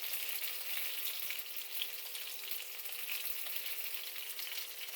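Hot dogs fry in oil with a dense, even, hissing sizzle that holds steady and close throughout, with no stirring or talk over it.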